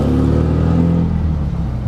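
The engine of a customised 1969 Volkswagen Karmann Ghia, warmed up, idles close by with a low, lumpy air-cooled rumble that eases off slightly toward the end, with no talking.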